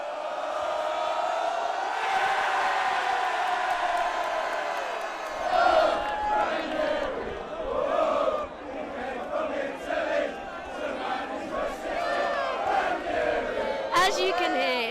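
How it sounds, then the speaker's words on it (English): Leicester City fans packed into the King Power Stadium cheer and roar in a loud, continuous crowd din as car horns beep through it, and a voice speaks close by over the noise. "People are just cheering, horns beeping, horns blazing."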